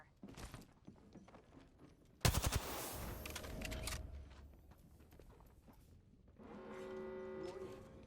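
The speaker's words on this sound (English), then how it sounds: "Opening fire." Gunfire in the video game Apex Legends, with a sharp loud burst of shots followed by rattling fire and other game effects, fairly faint overall.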